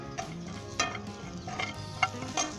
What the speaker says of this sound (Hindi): इसमें कोकोनट डाल दें और अच्छे तरीके से इसे मिक्स कर दें